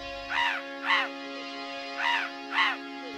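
Birds call over a river valley in Mustang, Nepal: four harsh, crow-like caws in two pairs ring out clearly against a faint steady hum.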